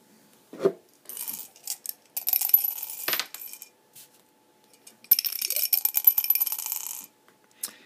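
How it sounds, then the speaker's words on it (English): Two dice are rolled for a tabletop wargame, clattering and rattling in short bright bursts, then a longer tumbling rattle, close and alone with no talk. "He would roll 2 dice."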